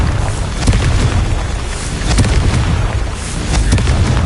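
Confringo blasting-spell explosions in a Hogwarts video game, loud booming bursts that repeat in a rough rhythm, each with a sharp crack at the start and a rumbling low tail.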